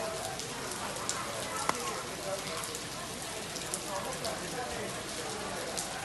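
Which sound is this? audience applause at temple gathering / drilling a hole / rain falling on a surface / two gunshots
rain falling on a surface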